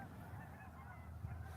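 Geese honk while flying overhead outdoors, faint and distant calls under a steady low background rumble.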